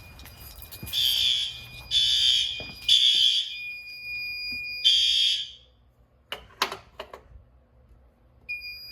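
A fire alarm panel sounds a repeating electronic buzz-tone in about four evenly spaced pulses, moderately close indoors, followed by a few clicks and a quieter beep near the end.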